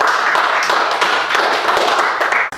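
A class of students claps their hands together in a quick, lively round of applause that stops abruptly at the end.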